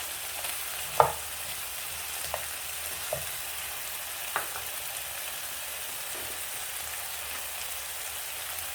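Butter sizzling in a pan alongside steak, a soft, steady frying crackle with a few isolated taps of a utensil against the pan.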